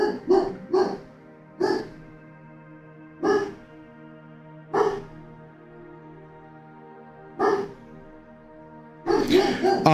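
A pet dog barks in a room, sending about eight sharp, loud barks spread unevenly across the stretch. A few come in quick pairs, and a denser burst arrives at the end, over a low steady hum.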